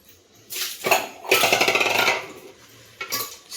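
Utensil clatter from a spoon working through an egg biryani marinade in a pot, a few scraping, clinking strokes in close succession, nearest and busiest in the middle, with no talking.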